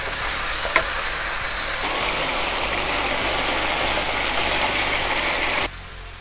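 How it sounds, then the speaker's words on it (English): Chicken stir-fries in a hot pan with black pepper, garlic, cumin and salt for a burrito filling, a loud continuous sizzle with a sharp clack near the start and a few scraping stirs, no talk. "just need 5 more minutes to stir fry this chicken up"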